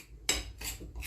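Raw liver being mixed with salt and seasoning in a bowl, heard as three short scraping, clinking stirs of utensil against dish, close and fairly soft, with no talk.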